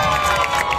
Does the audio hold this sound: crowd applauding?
yes